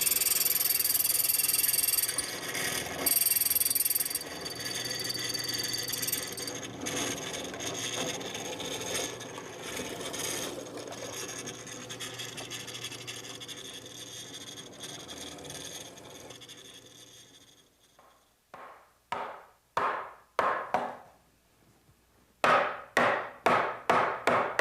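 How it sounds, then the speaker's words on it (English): A mortising attachment cutting half-inch-wide, two-inch-long mortises into wooden pieces in a woodworking shop, a sustained grinding, chattering cut that fades out and gives way to a series of sharp, separate knocks and taps near the end. "which is still set up with the mortising attachment"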